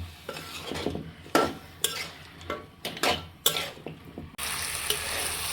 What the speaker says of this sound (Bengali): এখন লাউ কুমড়ো বড়িটাকে আমি মশলার মধ্যে কষিয়ে নেব